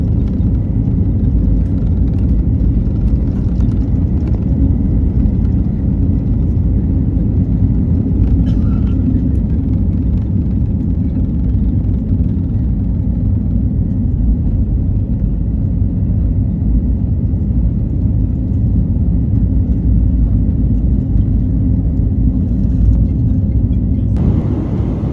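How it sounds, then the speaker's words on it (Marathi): Airplane engines roaring on the runway during takeoff, a loud, deep, continuous rumble heard from inside the cabin that holds steady throughout without talk. "चला टेक ऑफ करताना दाखवतो मी तुम्हाला."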